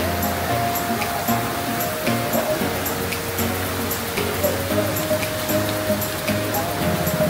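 Steady, heavy monsoon-style rain pours down at Marina Bay, Singapore, in a dense, unbroken roar, close and loud throughout.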